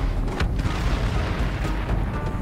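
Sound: massive explosion

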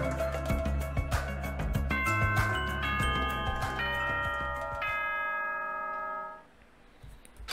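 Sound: school bell chime in the video game Danganronpa 2

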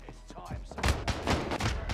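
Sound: gunfire in the video game Call of Duty: Warzone

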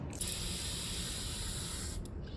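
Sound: spraying facial mist onto a sponge

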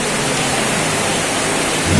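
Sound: indoor waterfall fountain splashing in Dubai Mall

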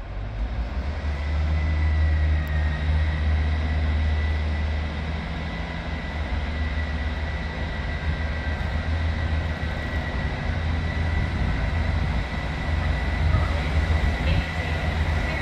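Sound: train arriving at Sheffield station

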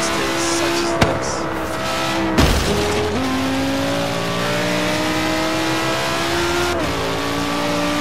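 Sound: four-wheel drive car doing a burnout in video game Forza Horizon 3

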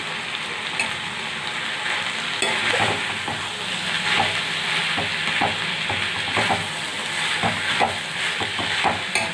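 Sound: sautéing radish with tamarind and coriander in a pan

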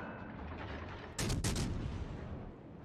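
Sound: naval gunfire in World of Warships Legends, from a video game

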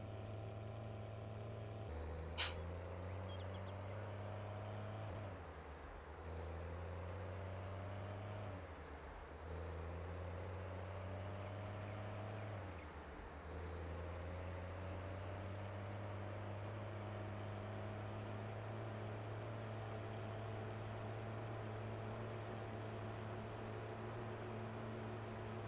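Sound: tractor engine driving, from a video game

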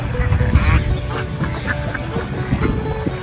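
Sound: ducks quacking

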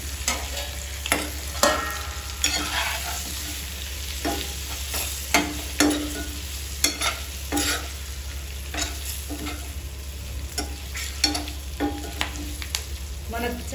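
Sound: frying curry leaves for egg pulusu

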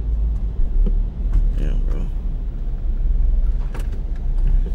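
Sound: car driving into a drive-through car wash

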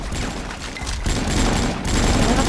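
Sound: gunfire in the video game Avatar Star

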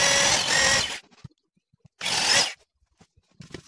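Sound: power drill drilling 5 mm holes in wooden toy box front

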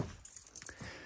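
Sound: keys jangling

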